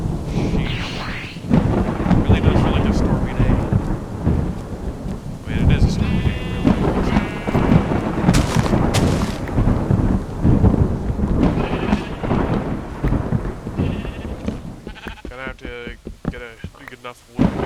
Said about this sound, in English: It really does feel like a stormy day